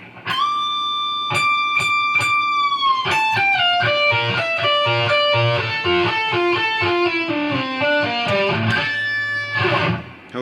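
Fast distorted electric guitar lick from a song's solo, opening with sustained bent high notes and then a rapid run of picked notes high on the neck, loud and alone with no talk.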